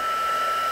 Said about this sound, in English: Just warm the heat gun up a little bit first, and off we go.